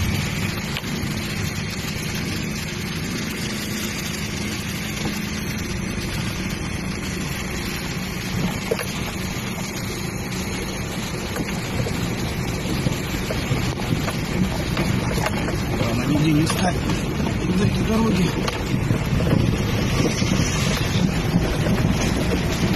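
Cars driving along a flooded highway near Romanovka, with a steady, loud rush of water and engine noise under strong wind buffeting the microphone, continuous throughout with no talk.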